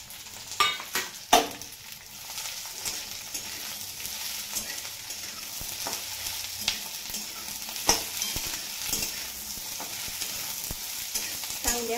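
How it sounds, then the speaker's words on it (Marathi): Okra hits hot oil with garlic and curry leaves for a spicy Maharashtrian bhindi, giving a steady, moderate sizzle with occasional stirring scrapes and a few sharper pops near the start. "आता ही भेंडी घालू त्याच्यात"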